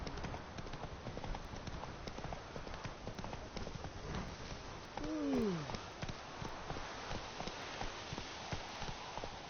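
Roach, Geralt's horse in The Witcher 3 video game, clip-clops along at a steady walking pace with hooves close and clear, a short rising-falling whinny or call partway through, and ambient outdoor game noise underneath.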